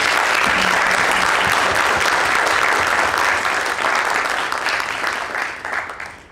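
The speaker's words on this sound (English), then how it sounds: "So I think we need to give them another round of applause because they are awesome." A crowd at a school board of education meeting claps steadily for several seconds, a dense, loud wash of applause that thins and fades toward the end.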